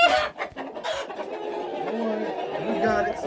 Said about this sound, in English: Now this here is that Delaware rooster.